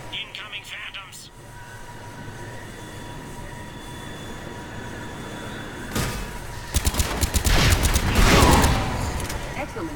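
Gunfire from the Mass Effect 3 video game erupts as a rapid, loud burst of shots after several seconds of low rumbling background noise.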